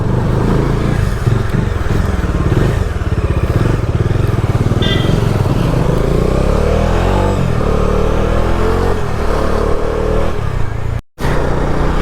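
A Bajaj Dominar motorcycle being ridden on the road, its steady engine drone loud and continuous with rising revs, ending in a brief cutout near the end.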